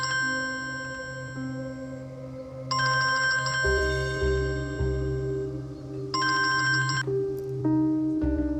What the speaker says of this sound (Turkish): Yaman Ferit arıyor.